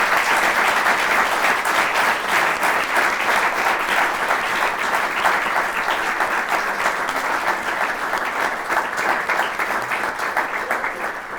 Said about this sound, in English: want to give you a round of applause